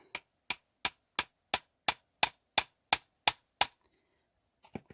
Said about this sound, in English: take a little hammer,